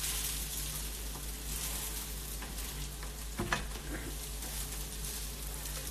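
Ramen frying in oil in a pan, a steady close crackling sizzle throughout with one brief louder stir or clatter partway through.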